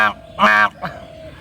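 A human voice imitates a goose honking: three short nasal honks up close, the middle one longest and loudest, with no other talk.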